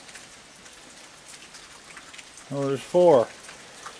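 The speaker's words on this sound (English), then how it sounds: "Hear the rain?" Steady soft rain falls at night as a faint continuous patter, and a voice briefly speaks near the end.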